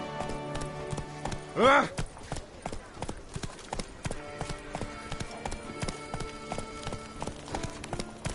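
A horse gallops in The Witcher 3 video game, its hooves pounding in a fast, steady clip-clop close up, joined briefly by a loud neigh and a short shout, with game music underneath.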